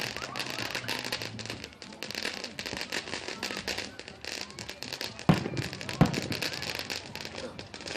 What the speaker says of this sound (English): I'll show you more of the fireworks if I still have battery.